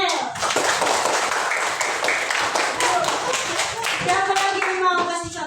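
Classroom applause for two pupils, Ivan and Muel: dense, steady clapping from a group that fills the whole stretch at an even loudness, with children's voices mixed in.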